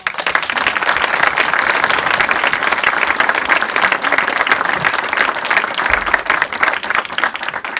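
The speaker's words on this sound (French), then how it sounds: "Je vous demande d'accueillir et d'applaudir Marie-Thérèse Chorat." Loud, sustained audience applause at a French local election list presentation, dense continuous clapping from a crowd close by, with no voices over it.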